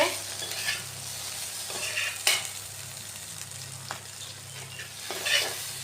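Okra (bhindi) frying in oil, a continuous close sizzle with periodic stirring scrapes and clinks of a spatula against the pan.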